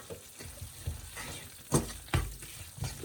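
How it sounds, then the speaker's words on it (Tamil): Onions dropped into a hot frying pan crackle and sizzle, with a few sharp bursts of spitting as they hit the oil and a steady hiss between, close and fairly loud. "வெங்காயத்தை ஆட் பண்ணுவோம்."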